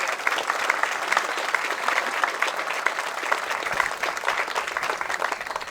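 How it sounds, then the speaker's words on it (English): Steady round of audience applause at a ceremony, a dense wash of many hands clapping at moderate volume without pause, with faint crowd murmur underneath. "Let's do another round of applause"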